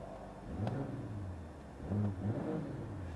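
A BMW M440i Gran Coupé in Sport Plus mode gives two brief throttle blips, the deep engine rumble rising and falling over a steady idle, close by and without talk.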